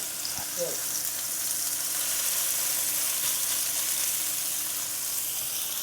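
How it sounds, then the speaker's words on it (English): Steady, loud sizzling of steak searing in a hot pan, a continuous crackling hiss with a brief clink near the start. "Listen for that sizzle."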